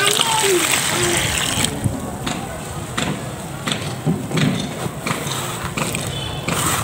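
A crumbly mixture is stirred in a little water, with wet splashing, squelching and soft thuds under someone talking.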